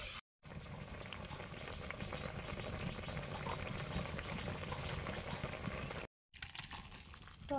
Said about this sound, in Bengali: টক ফুটে গেছে, পুঁটি মাছগুলো দিয়ে দিলাম।